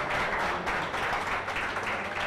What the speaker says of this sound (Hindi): डॉक्टर चंद्रमणि ब्रह्मदत्त के लिए मैं चाहता हूं एक बार पूरा सदन जोरदार तालियां बजा दीजिए।